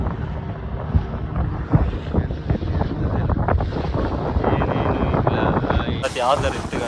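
A boat speeds across the open sea in strong wind, with heavy wind buffeting on the microphone, a steady engine and water rush throughout, and voices talking over it.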